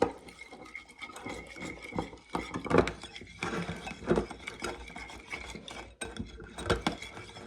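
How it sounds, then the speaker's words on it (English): A very thick honey-sweetened mixture is whisked by hand in a bowl, giving a steady run of scraping, rubbing strokes with a few louder clacks against the bowl's side, close and clear with no talking. "we are going to give this a nice whisk"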